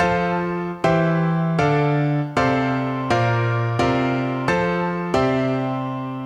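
Eight chords from an MPC Live 3 sampler's chord progression mode struck one after another at a steady, slow pace, each ringing and fading before the next, alone and clear.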